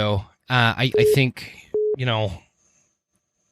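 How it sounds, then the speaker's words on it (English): A phone gives two short, steady electronic beeps during a podcast recording, each cutting in over a person speaking nearby. "whoops, I think that was my phone."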